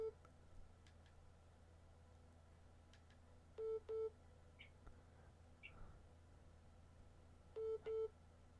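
Telephone line tones on a radio call-in show: pairs of short electronic beeps sound twice, several seconds apart, with faint clicks and a low hum in a quiet background.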